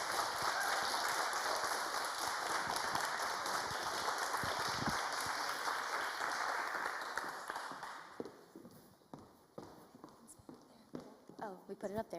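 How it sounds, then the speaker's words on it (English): Applause from an audience at a startup pitch event, dense clapping loud and sustained for about eight seconds before thinning into scattered claps, with a voice speaking near the end. "we have another round of applause for Communiteer"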